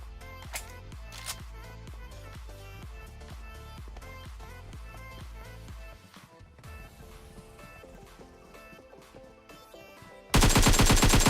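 Rapid bursts of video-game gunfire rattle out in steady, repeated volleys over a busy game soundscape, then give way to quieter ambience before a sudden loud, harsh burst at the end.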